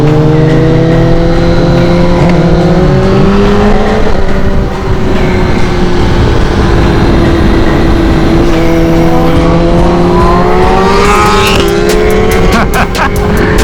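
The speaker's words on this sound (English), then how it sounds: "That bike is fast. That bike is quick, boys." A fast motorcycle races by close and loud, its engine whining and rising and falling through the run, with a surge of high revs toward the end.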